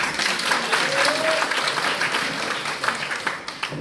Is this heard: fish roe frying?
no